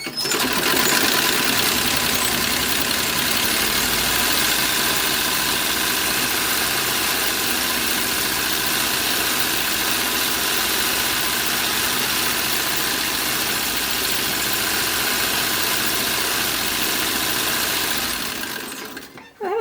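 A sewing machine running a long continuous top stitch down the front of a 1940s-style dress, a steady close whirring hum that holds for most of the stretch before slowing and stopping near the end.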